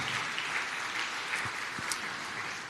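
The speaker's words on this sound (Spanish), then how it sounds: "¿Cuántos le pueden dar un aplauso al Señor?" Church congregation applauding during a sermon, a fairly soft but steady spread of many hands clapping, continuous and even with a few louder claps standing out.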